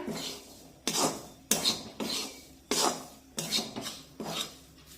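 Gram flour roasts in ghee in a pan over a low flame for besan laddu, stirred in slow, rhythmic strokes that make about seven distinct rasping scrapes, close and clear with no talking.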